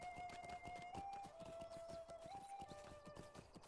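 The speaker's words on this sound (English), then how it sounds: "Oh, those horses." Horses' hooves clip-clop in a steady, brisk rhythm in the online game Lord of the Rings Online, a continuous run of even hoofbeats with faint game tones over them.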